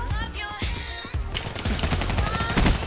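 Rapid automatic gunfire from a Black Ops 3 free-for-all match, dense bursts of shots running nearly throughout, loud and close, with a sharp intensification about halfway through.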